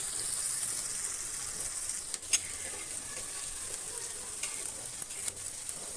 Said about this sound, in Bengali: পেঁয়াজ পেস্টটা ভালো করে তেলে ভাজা ভাজা হয়ে যাবে।